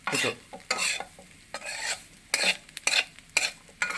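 A spoon stirs a Kerala-style fish pickle mixture with Kashmiri chilli powder, scraping close and loud in quick, repeated strokes with short pauses between them.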